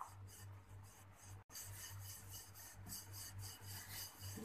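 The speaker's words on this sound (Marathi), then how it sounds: "पोळी अशी व्यवस्थित लाटून घ्यायची" A rolling pin works puran poli flatbread dough on a flour-dusted surface, making repeated soft rasping strokes in a steady back-and-forth rhythm, close and fairly quiet, with one brief dropout and no speech.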